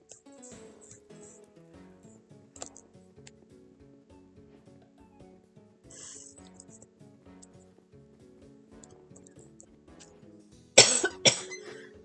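A burst of coughing near the end, loud and close, following a stretch of quiet game music with small clicks; a couple of sharp rough coughs in quick succession.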